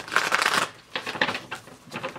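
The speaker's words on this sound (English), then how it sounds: "I know you guys like to watch the reader shuffles. That's why I'm doing it during my preamble." Tarot cards are shuffled by hand in close, crisp riffling bursts, one long run followed by several shorter ones with brief pauses between, with no talk.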